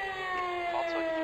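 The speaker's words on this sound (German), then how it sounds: "Schauen wir uns auch nochmal an die Sirene" A fire engine siren from the video game Emergency 4, in the Bieberfelde Bayern 2.0 mod, holds a steady, faint electronic wail with no talk over it.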